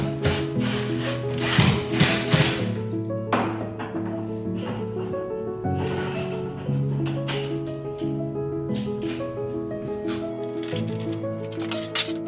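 Door shroud on a bike camper being fastened with 7/8 inch screws, a powered driver whining in repeated short bursts with clicks and clinks between them, close by.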